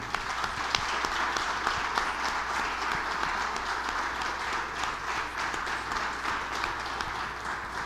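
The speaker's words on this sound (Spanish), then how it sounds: "Dale un fuerte aplauso al Señor." A church congregation at a Sunday celebration service applauds in praise of the Lord, a steady, even wash of many hands clapping that continues without a break, moderately loud and roomy.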